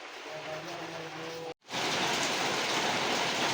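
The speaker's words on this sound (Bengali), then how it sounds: "বৃষ্টি নামা শুরু হয়ে গেছে" Rain begins to fall on a July day while jute is being dried; a steady, loud hiss of falling rain fills the scene after a brief silent gap, with no voices.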